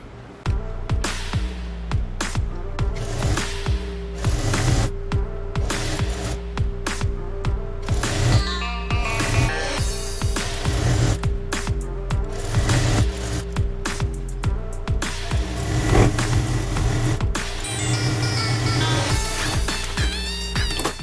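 A sewing machine runs steadily, stitching the fitting seam on the side of a trendy short summer kurti, its dense mechanical whirring and ticking close and continuous with only brief pauses.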